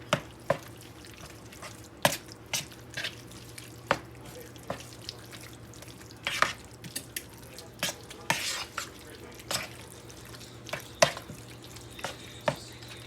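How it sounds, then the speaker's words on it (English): A spoon stirs dump-and-go casserole ingredients in a bowl, with sharp, irregular clinks and taps against the dish over a quiet steady hum, no talking. "Stir this up."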